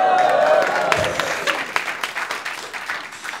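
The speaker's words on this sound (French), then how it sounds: "Alors, on a applaudi" Comedy club audience in Paris applauding during a stand-up set, a loud burst of clapping mixed with crowd noise and laughter that gradually thins over a few seconds.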